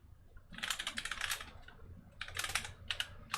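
Code is typed on a computer keyboard in quick, close bursts of clicking keystrokes separated by a short pause, with no talking.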